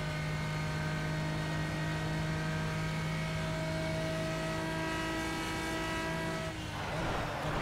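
Pagani Huayra supercar engine heard from inside the cabin in the Project Cars racing game, a steady droning hum with sustained tones that holds throughout, then shifts into a rougher, noisier rush near the end.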